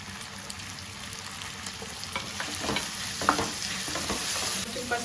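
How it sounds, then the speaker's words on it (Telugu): Onion and tomato fry with kasuri methi and a little turmeric in a pan for an onion chicken curry, giving a steady close sizzle with scattered stirring clicks and scrapes throughout. "ఆనియన్ టమాటో ఇంత ఫ్రై అయింది, చాలు."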